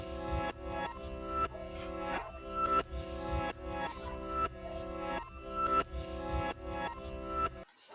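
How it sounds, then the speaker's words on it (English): Reversed music track in Soundtrap, with sustained tonal chords swelling and cutting off in a regular backwards pulse, moderately loud and continuous, then stopping abruptly near the end. "I took that track and I played it backwards, basically. So I reversed the track."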